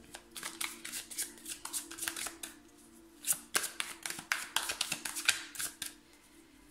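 Playing cards are shuffled by hand for a tarot-style reading, with soft rapid riffling and slapping bursts close by in an uneven rhythm, quiet and with no voice over them.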